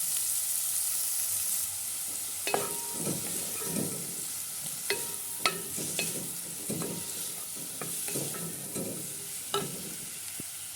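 Garlic and tomato paste fry in a pan while cooking kabsa, giving a steady close sizzle broken by repeated sharp scrapes and clatters of stirring, with no voices.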